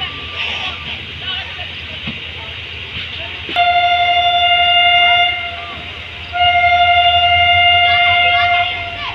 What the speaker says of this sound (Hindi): डिपार्चर भी हो रहा है एयरपोर्ट हार्ड रेलवे स्टेशन से।